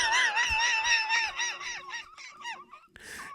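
Loud goose honks in a quick series, a string of harmonic calls that gradually break up and fade, ending with a brief noisy burst; no talking.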